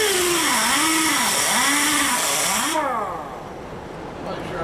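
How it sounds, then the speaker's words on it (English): A dual action sander works a door sill on a 1985 Chevy K10, a loud close whirring motor that wavers steadily in pitch, then eases off and drops lower as it winds down near the end. "I'm gonna hit this with a DA first and then block sand it"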